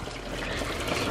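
Water runs steadily outdoors on a sunny day for a dog's bath, a constant close splashing rush with no pauses and no voices.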